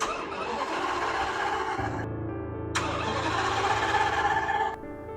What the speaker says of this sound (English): I'm trying to start the car right now